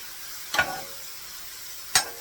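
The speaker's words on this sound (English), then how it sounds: "We're frying up all these and to get a little bit smaller, a little bit softer" Mushrooms sizzle on a hot Vevor griddle as a faint, steady frying hiss, broken by two short scraping stirs.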